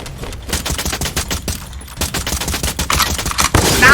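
Rapid bursts of automatic gunfire in the battle-royale video game Free Fire, dense rattling volleys with brief gaps, loud and close throughout.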